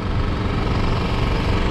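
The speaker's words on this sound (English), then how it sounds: "That's a hot engine." A hot car engine runs close by in a steady, loud low rumble with no pauses or voices.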